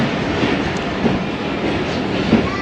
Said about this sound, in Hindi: 33 अप पाक बिज़नेस एक्सप्रेस रवाना हो गई है खानेवाल जंक्शन से।